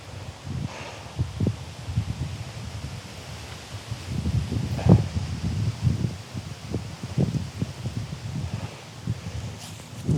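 Wind gusts across an outdoor disc golf course in the Mendip Hills, UK, buffeting the microphone with low, uneven rumbling bursts that rise and fall throughout.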